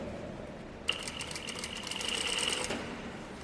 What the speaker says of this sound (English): I'm maneuvering the fabric as I'm sewing along the curve line